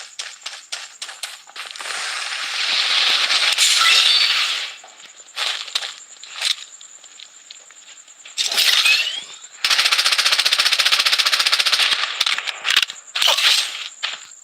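Rapid bursts of automatic gunfire in the Blood Strike battle royale shooter, several sharp clattering volleys broken by short pauses, loud and close with no talk.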